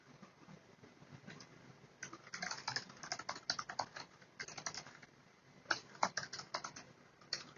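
Typing on a computer keyboard: quiet, irregular bursts of key clicks, some sparse and some in quick runs, close by with no talk.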